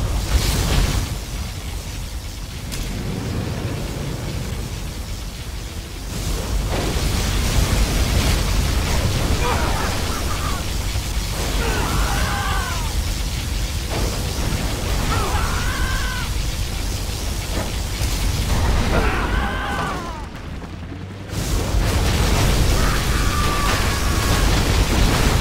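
A particle cannon blast in Command & Conquer Generals sets off loud, continuous roaring explosions that fill the scene almost without pause, with brief voice lines heard under the din.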